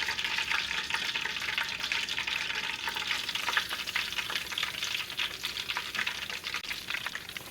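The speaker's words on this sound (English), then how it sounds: "I'm just going to gently lay some more in and continue the cooking process." Chicken breast strips fry in hot oil with a steady, dense sizzle and crackle, close and continuous, with brief spitting pops scattered throughout and no voices.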